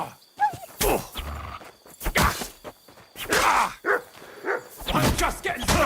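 Mutt, a dog in Kingdom Come: Deliverance II, barks in a few sharp bursts amid game combat noise, grunts and footsteps, moderately loud and close, with a voice talking in between.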